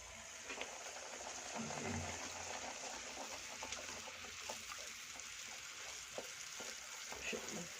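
Mangalore buns deep-frying in hot oil give a steady, close, broadband sizzle with bubbling crackles and brief louder pops throughout.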